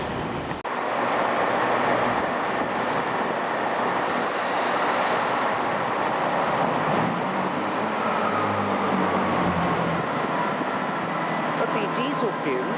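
Diesel train idling and moving at London Marylebone station, a continuous loud rumble with engine drone, faint squeals and a brief high whine near the end, heard in a large echoing platform space.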